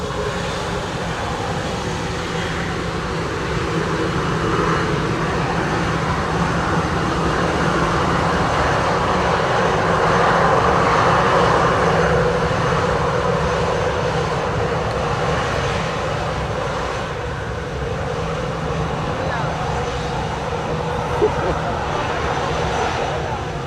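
Delta airliner on its takeoff roll from runway 7 at Montego Bay, Jamaica, heard from the sea as a steady broad jet roar that swells slightly midway and holds, with wind and water noise underneath.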